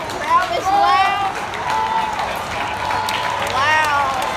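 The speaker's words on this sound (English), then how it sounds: "Crowd is loud." A baseball crowd at PNC Park during a Brewers-Pirates game, with loud sustained crowd roar and cheering mixed with nearby voices and shouting throughout.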